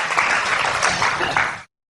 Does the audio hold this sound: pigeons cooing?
no